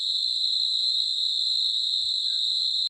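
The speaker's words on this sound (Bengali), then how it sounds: "বাইরে কেমন ঝিঝি পোকা ডাকছে, শুনতে পাচ্ছ?" Crickets chirp outdoors at night in a steady, loud, unbroken high trill that runs the whole stretch alone, with only a few faint low rustles beneath before it cuts off at the end.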